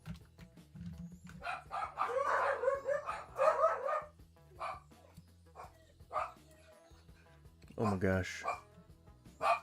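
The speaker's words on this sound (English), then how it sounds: "Stop. Don't be barking." A dog barks and yips in several short bursts, fairly close and loud, mixed with whimpering, while a person speaks briefly in between.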